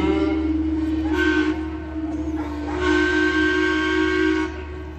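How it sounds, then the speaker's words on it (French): The flagship paddle steamer La Suisse sounds its steam whistle while passing close to the Vevey landing during a 2024 naval parade, two long, loud, steady hooting blasts with a short gap between them. "la parade navale CGN 2024 termine avec le passage du vapeur amiral La Suisse au plus près possible du débarcadère de la Tour"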